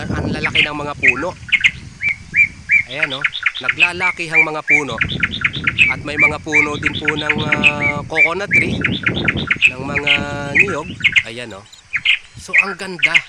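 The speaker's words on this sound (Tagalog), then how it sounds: "At mahadidinig mo po talaga kung dinig na dinig po yung huni ng mga ibon." Many birds chirp and sing in a lush forest with tall trees and coconut palms, repeated bright tweets and calls running throughout, while someone speaks over them fairly close.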